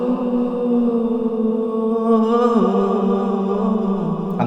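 A solo sung vocal for an organic deep house track, drenched in reverb and delay with the low end cut, holds long sustained notes with a smooth pitch glide midway and airy echoing tails.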